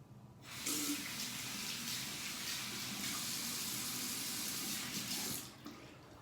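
Tap water runs steadily into a sink for several seconds while wetting the face before a shave, a close, constant hiss and splash with no talking.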